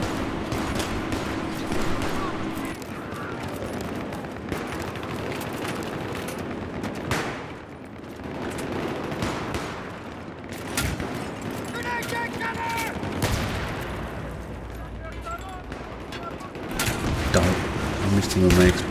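Bursts of automatic gunfire in the video game Battlefield 3 come as rapid rattling volleys and single cracks, heard alongside game music and effects while someone talks over them.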